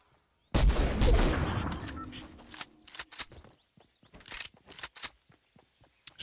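A new weapon fires in Fortnite, opening with a loud close burst of gunfire that rings out and decays, followed by a scattering of sharper single shots and clicks.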